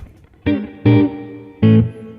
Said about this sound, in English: It's just Fender twin reverb, amp, and spring reverb